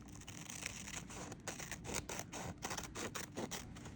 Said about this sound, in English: I think I'll take these scissors, and then I'm just going to trim along the bottom.